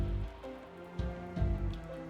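Steady rain falls in the video game Rimworld, a soft continuous patter of drops with faint low rumbling and no voices.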